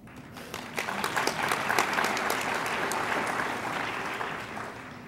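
An audience at an education summer institute breaks into applause, a dense burst of clapping that swells quickly, holds loud and steady, then begins to taper near the end.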